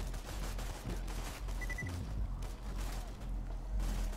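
Gunfire and grenades in Borderlands 2, a dense, steady barrage of shots and booms that runs throughout with no pauses.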